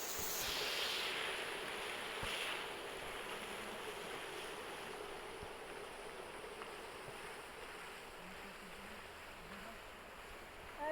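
Heavy water falling at a dam rushes and roars continuously at steady loudness, a broad wash of noise with no voices on top.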